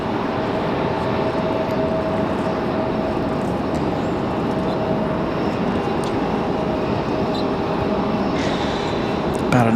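A Delta Connection CRJ regional jet arrives at Raleigh-Durham airport as a steady, broadband engine roar that holds evenly throughout and swells slightly at the very end.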